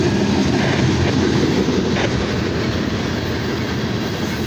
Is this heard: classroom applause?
no